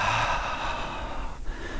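A long, steady breath pushed out through an open mouth during a yoga flow, close and soft, with no talking.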